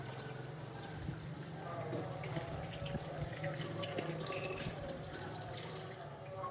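Water pouring steadily from a tap during a prank on a sleeping brother, a constant close splashing rush with faint voices underneath.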